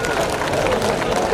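Crowd applause at an outdoor Run For Udaipur community event, a dense continuous clatter of many hands with murmuring voices, loud and steady throughout.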